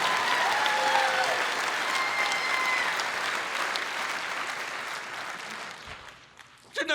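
A worship congregation claps together in a long, dense burst of applause that holds steady before tapering off near the end, with a brief sharp noise at the close.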